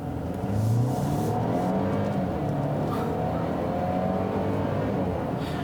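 A Mercedes GLC300 accelerates hard from close inside the cabin, its engine note climbing steadily in pitch as it pulls through the revs for several seconds with no talking.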